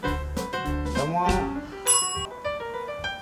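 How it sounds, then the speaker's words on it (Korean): Bell struck near a small Maltese dog, a few clear metallic rings with lingering tones, close by and mixed with talking. "자몽이는 종이 무서운가 봐요."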